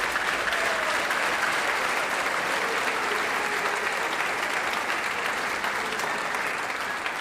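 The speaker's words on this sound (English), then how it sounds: "One more round of applause for the percussionists," A crowd at a band gathering applauds the percussionists, with sustained, even clapping that fills the space at a steady level from start to finish, with no talking over it.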